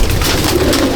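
Carrier pigeons in a loft in Akra, Kolkata, with soft low cooing under a noisy, crowded ambience filling the whole short moment.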